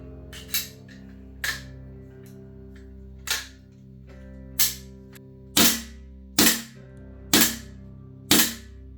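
A GHK V3 AR airsoft rifle fitted with a recoil kit fires eight sharp, snappy single shots at irregular intervals, each a loud close crack with a short mechanical clack, over a faint steady hum.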